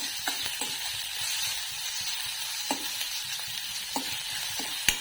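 Onion and tomato fry in a pan. A steady hiss of sizzling oil runs throughout, broken by sharp clicks and scrapes as a spoon stirs, close and alone.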